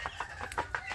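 Chickens in a coop give a quick run of soft, evenly spaced clucks, fairly faint and close, with no talk over them.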